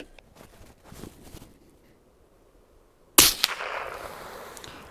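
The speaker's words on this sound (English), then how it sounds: "We're going to do at least 10 shots to get an average here." .22LR rifle fires a single sharp crack partway through, followed by a brief ringing tail after quiet handling sounds.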